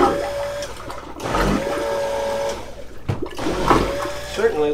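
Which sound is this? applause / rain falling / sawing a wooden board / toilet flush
toilet flush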